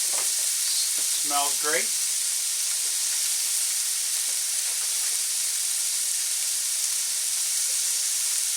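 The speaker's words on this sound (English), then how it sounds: "So we got this in. It's sizzling." Goose meat sizzling in a hot pan for a stir fry, a steady broadband hiss throughout the clip, with a few brief spoken words near the start.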